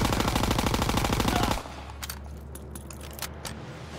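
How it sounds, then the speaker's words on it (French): Call of Duty WW2 gameplay: rapid machine-gun fire rattles loudly for about a second and a half, then cuts to a quieter rumble with scattered sharp cracks and clicks. "Non, c'est une grenade là qu'ils ont lancé."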